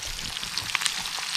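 Bluegill fish fry in a pan over a camp setting, giving a loud, dense sizzle with scattered crackles and pops, close and uninterrupted.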